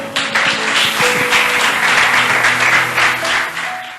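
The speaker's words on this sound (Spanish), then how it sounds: "un aplauso al Señor" A crowd applauds steadily, dense clapping that holds at full strength for several seconds.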